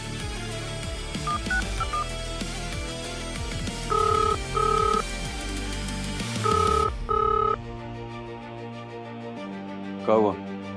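A phone rings unanswered as sequences of electronic beeping tones repeat, mixed with dramatic background music, ending abruptly into near quiet with a brief sweep near the end.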